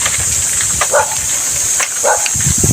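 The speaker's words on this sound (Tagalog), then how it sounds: "Ang daming aso." Many dogs barking somewhere in a rural Philippine yard, with a few short barks popping out over a constant hiss and low rumble of background noise.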